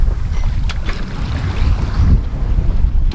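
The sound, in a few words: wind at sea on a sailboat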